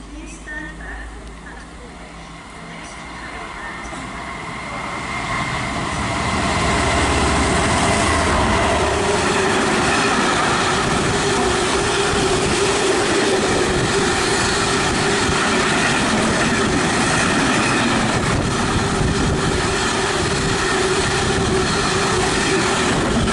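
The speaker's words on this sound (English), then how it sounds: "It's another freight on platform 1." A freight train rolls through a station platform at Tamworth on the West Coast Main Line, its rumble building after a few seconds into a sustained loud roar with rail clatter, and someone speaks faintly near the start.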